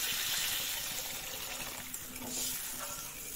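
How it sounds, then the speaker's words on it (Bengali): Water is poured into a hot cooking pan of spices and chili for an onion and boal fish curry, making a steady rushing, bubbling gush with faint clinking, close and fairly loud throughout. "রান্নার জন্য যতটুকু পরিমাণে জল লাগবে ততটুকু পরিমাণে এখনই দিয়ে দেবেন"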